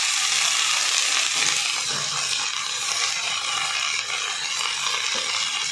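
Chopped fenugreek leaves sautéing in hot oil for a besan methi bhaji, giving a steady, close hiss and sizzle with faint stirring scrapes and no talk.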